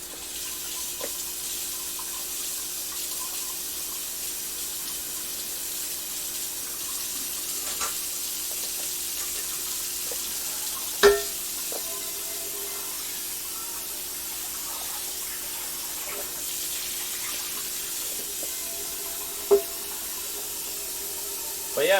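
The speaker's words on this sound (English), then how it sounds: "I'm going to clean up this pan here just so it's ready to go for tomorrow" A pan being washed under a running kitchen tap, a steady rushing hiss of water throughout with a couple of brief metallic knocks as the pan shifts in the sink.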